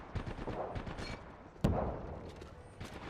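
Gunfire in the Apex Legends video game, a dense crackle of shots with one sharp loud burst near the middle, over a continuous busy battle din.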